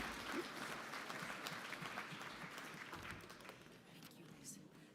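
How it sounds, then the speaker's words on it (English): Applause from a convention audience fills the hall, broad, sustained clapping that gradually thins toward the end, with faint voices underneath. "round of applause for Randy"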